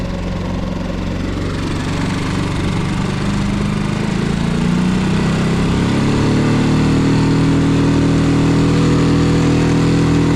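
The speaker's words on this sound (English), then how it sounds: "Now I can use this for lobstering the bully netting, no problem, because it can idle down so low." A boat's outboard engine idles down low on open water, giving a loud, steady, continuous drone close by, its pitch shifting slightly halfway through, with no talk.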